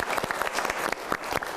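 Dense applause from an audience, steady and continuous throughout the short stretch with no voices over it.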